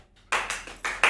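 A sound-effect button plays recorded applause during a live music stream, four short bursts of clapping in quick succession, loud and close, with no talk over it.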